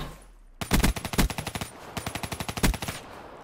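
Automatic weapon fire from a Black Ops 3 multiplayer match, two loud rapid bursts of evenly spaced shots separated by a short gap, close and alone.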